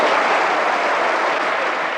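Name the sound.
audience applause after the fairy queen act at a Christmas concert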